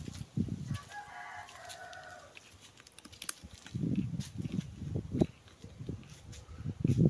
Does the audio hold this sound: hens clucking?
yes